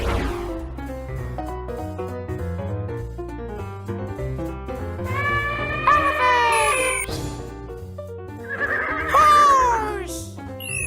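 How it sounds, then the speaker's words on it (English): A horse whinnies twice over a xylophone melody in a children's first-words piece, each neigh a loud, shaky descending call lasting about two seconds, clearly above the music. "Horse!"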